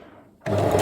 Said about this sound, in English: So go very gently and sew this one line.